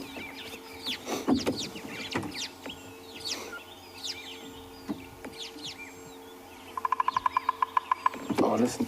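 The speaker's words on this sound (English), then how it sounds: "Woodpecker beating on a tree. From how loud it is, it's probably one of the bigger wood species, either golden-tailed or bearded." A golden-tailed or bearded woodpecker drumming on a tree on a sunrise safari drive: a rapid, evenly spaced burst of about a dozen sharp knocks near the end, heard over chicken-like clucking and bird calls.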